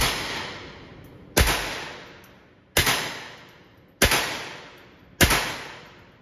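Four sharp gunshots fired at a steady pace about one and a quarter seconds apart, each a loud crack followed by a decaying echo, with faint background noise between them.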